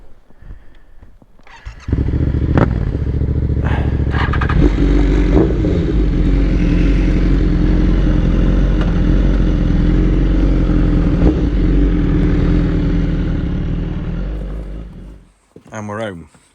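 BMW S1000RR sport bike with an Akrapovic exhaust rides steadily, its engine a loud, sustained roar for most of the run before easing off and dropping away near the end, with voices chatting faintly at the start.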